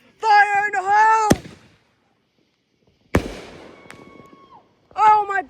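Fireworks fired for an American 250th birthday celebration: a sharp launch crack and a loud near burst with crackling decay, with excited voices shouting before and after.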